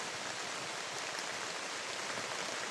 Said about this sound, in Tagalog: mag-apat na linggo na ngayon lang umuulan